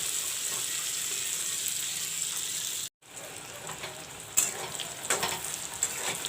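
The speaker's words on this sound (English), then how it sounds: "Now I will let this fry in the oil nicely." Pointed gourd (potol) frying in hot oil makes a continuous close hiss and sizzle that cuts out briefly, then returns with crackles and pops as the pieces are moved.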